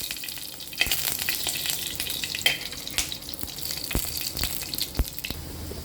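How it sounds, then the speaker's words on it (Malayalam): Crushed garlic sizzles in hot oil with mustard seeds, urad dal, cumin and dried red chili, a steady close crackle broken by sharp pops and spits, with no voices. "വെളുത്തുള്ളി ഞാനൊന്ന് ചതച്ചിട്ട് ഇട്ട് കൊടുത്തേക്കുവാണ്."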